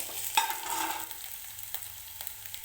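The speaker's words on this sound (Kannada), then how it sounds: "ಸ್ವಲ್ಪ ಬ್ರೌನಿಶ್ ಬರೋ ತನಕ ಫ್ರೈ ಮಾಡುವ ಬಟಾಟೆ" Thin potato slices frying in a few spoonfuls of oil, a steady soft sizzle with a brief stir or clink near the start and small scattered ticks afterward, moderately close and quiet, no voices.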